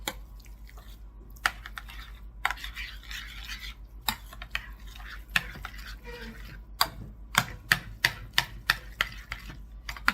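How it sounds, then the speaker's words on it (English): A spoon stirring thick homemade refried pinto beans in a pot, with soft squelching rubs and sharp scraping clicks that come more often toward the end, heard up close and alone. "Mix this up."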